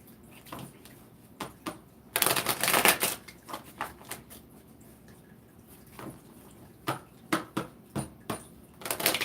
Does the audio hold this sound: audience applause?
no